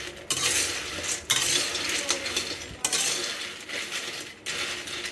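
Peanuts are stirred in a dry pan and roasted without sand, a close, continuous rattling scrape of nuts against metal broken by brief pauses between strokes.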